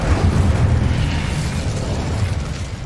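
A Confringo spell explosion in Hogwarts Legacy lands as a dense, roaring blast and a sustained low rumble that holds at a steady loudness for nearly three seconds.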